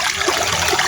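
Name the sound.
small stream flowing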